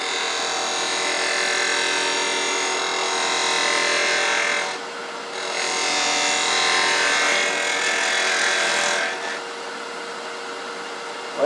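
A 3/8 inch spindle gouge cuts wood on a lathe while turning a small multi-axis pedestal birdhouse, a steady hissing, scraping rush broken by a brief pause near the middle before resuming, close and alone.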